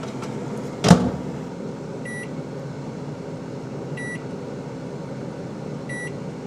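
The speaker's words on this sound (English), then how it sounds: "We're going to do that one first in the microwave." A microwave oven heating chicken tikka masala: a steady low hum runs throughout, with a short clunk near the start and faint electronic beeps repeating every couple of seconds.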